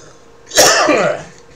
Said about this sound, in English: Just be coughing in people's ears.